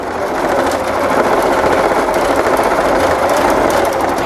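A sewing machine runs a satin stitch, a loud, steady high-speed whirring and rattling that continues without a break from start to finish.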